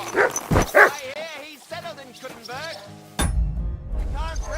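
A dog in the medieval video game Kingdom Come: Deliverance 2 gives a few close, loud barks and yips, followed by a character talking over the game ambience.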